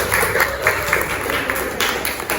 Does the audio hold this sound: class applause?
yes